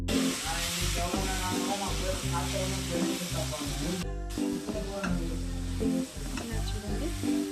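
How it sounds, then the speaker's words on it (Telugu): Masala with chili powder frying in a pan for Tamil Nadu style fish curry, a steady close sizzle and stirring running under loud background music. "చూడండి, ఇలా బాగా ఫ్రై అవ్వాలి"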